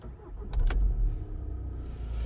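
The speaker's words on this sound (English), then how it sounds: "and if I start the car up" A 2014 VW Golf GTD diesel is started from inside the cabin: a brief cranking burst, then the engine settles into a low, steady idle rumble, close and alone.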